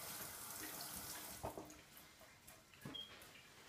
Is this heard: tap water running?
yes